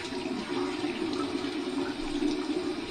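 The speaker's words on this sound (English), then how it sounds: "I was rinsing this under warm water, so that works really well." Warm water pours steadily from a tap while a shaving brush is rinsed under it, a continuous close rushing splash without pauses.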